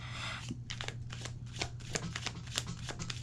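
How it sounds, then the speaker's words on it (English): Tarot cards are shuffled close up in a series of crisp, papery riffles and snaps with brief pauses between bursts; nobody speaks. "I'm just shuffling the cards"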